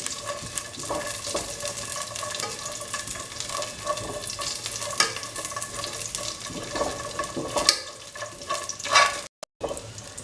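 Raisins sauté in a pan with a continuous soft sizzle and occasional stirring clatter, close and moderately loud, and a brief sharp cut-out near the end.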